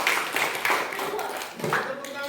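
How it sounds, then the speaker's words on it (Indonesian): Applause for a school group during a classroom orientation session: a burst of clapping from a room of students, mixed with voices talking over it. "berikan tepuk tangan kelompok merah"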